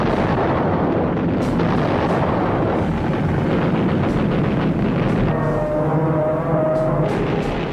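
A bomb penetrates four decks of the aircraft carrier Yorktown before exploding, heard as a loud, continuous roaring rumble of blast and fire, broadband and sustained throughout, with a lower droning tone emerging toward the end.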